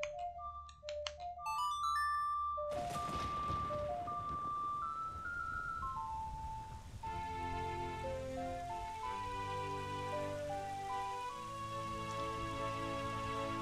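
In the Majora's Mask video game, a bright chiming melody plays, then a wash of rain summoned by the Song of Storms rises under further sparse notes, steady and moderately quiet.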